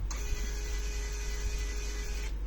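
A NIIMBOT D101 portable label printer feeds and prints a waterproof sticker label, giving a steady electric whir for about two seconds that stops abruptly, over a low background hum.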